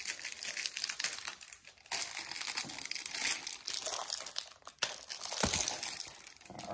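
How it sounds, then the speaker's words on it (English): 1986 Topps baseball card rack pack being opened, with continuous close crinkling and tearing of the wrapper, crackly bursts that rise and fall over several seconds, fairly quiet and without talk. "We're going to open up 1986 Topps rack pack."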